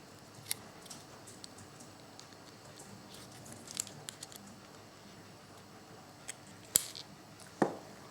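While a Syma X11 drone is being modded, parts are cut in a quiet room, giving sparse faint snips and clicks with a couple of sharper snaps near the end.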